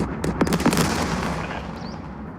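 A gun firing in the Second Front war video game: a few rapid sharp cracks close together, then a fading rumble and hiss tailing off.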